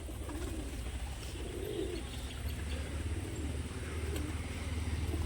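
Several pigeons coo in repeated low, rolling phrases at a moderate distance, with a steady rumble of traffic or machinery underneath.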